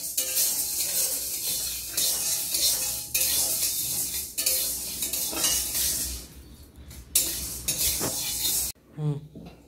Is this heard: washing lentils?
yes